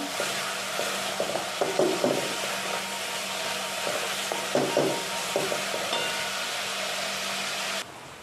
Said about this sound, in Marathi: सगळे लाल होईपर्यंत चांगलं परतून घ्यायचे कांदा आणि टोमॅटो